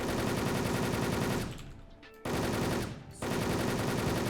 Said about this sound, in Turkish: Mermiler zımba gibi gidiyor arkadaşlar.